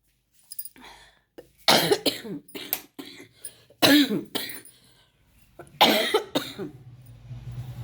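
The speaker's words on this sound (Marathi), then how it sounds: "लय खोकला येतोय, खोकलाच राहत नाही" Harsh, repeated coughing fits close to the listener, several bursts in quick succession separated by brief pauses and a hum in the background.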